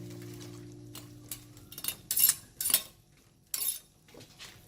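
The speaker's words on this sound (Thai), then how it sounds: "แล้วเราก็ปิดฝาค่ะ" A lid clinks and clatters onto a metal pot of Thai chicken tom yum with banana blossom, a few sharp metallic knocks and a rattle close by in a quiet kitchen, with a low hum underneath.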